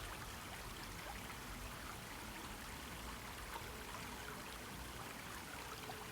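Flowing water rushes in a steady, even wash, a faint continuous stream-like sound with no voices or breaks.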